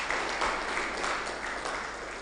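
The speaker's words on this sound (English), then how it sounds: "I think we can give a better round of applause for that." Audience applause at a MedTech fair on local ventilators for Africa, a continuous, even patter of many hands clapping at moderate volume.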